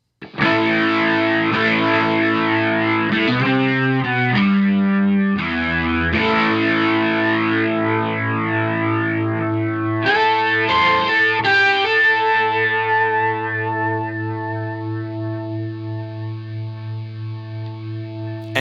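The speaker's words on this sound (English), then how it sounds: "Here's that same lick with some distortion before the pedal." Electric guitar with distortion placed before a Boss MO-2 Multi-Overtone pedal, playing a sustained melodic lick of bent notes and held tones with a dense, shimmering overtone layer, loud and continuous, fading on a long final note.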